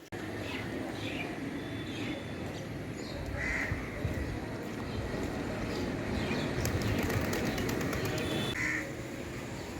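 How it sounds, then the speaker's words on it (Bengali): Birds perched on a wire under a cloudy sky call now and then over a steady outdoor rumble, a few clear chirps and caws standing out at a distance, with no talking. "মেঘলা আকাশে পাখিগুলো সুন্দর এসে তারের উপরে বসে আছে"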